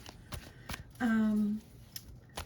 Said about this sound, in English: I've already cleared the energy of the cards and shuffled, just shuffling a little bit more.